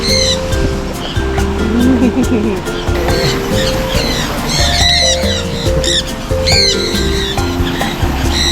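Several birds squawking with sharp repeated calls while one woman holds three of them outdoors by the sea in Roatan, with surf washing steadily underneath and people talking nearby.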